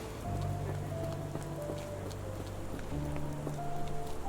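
Steady rain patters across a surface in the video game Sherlock Holmes The Awakened, a constant hiss with scattered drops, while sustained musical tones hum underneath.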